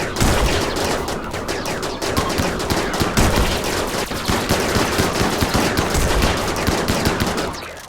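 Dense, continuous automatic gunfire from a RimWorld battle, loud bursts and rapid overlapping shots filling the whole stretch without pause.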